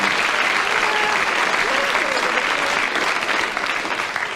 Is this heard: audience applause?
yes